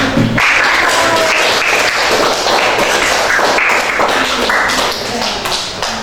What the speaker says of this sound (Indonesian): Sekali ya, boleh tepuk tangan.